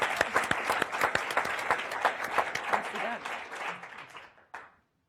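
An audience at a panel event claps in a brisk burst of distinct, fairly close handclaps that thin out and stop after a few seconds, with one last clap near the end.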